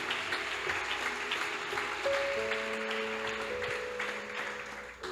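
Church congregation applauding inside a worship hall, a broad wash of clapping that stays steady then gradually fades, with sustained tonal hums from instruments or feedback beneath.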